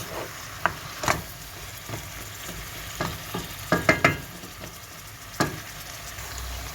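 An eggplant dish with peppers frying in a pan, a steady sizzle broken by sharp scrapes and knocks as a utensil stirs the mixture at close range, no voices.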